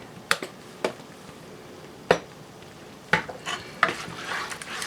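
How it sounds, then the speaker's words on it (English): A spoon stirs a pot of food on the stove, seasoned with a bit of yellow mustard: sharp, intermittent clinks and scrapes of metal against the pot, spaced irregularly over a quiet background. "Stir that up."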